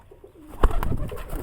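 Pigeons coo softly in a loft, low throaty calls overlapping close by, with a brief knock or flutter partway through and no voices.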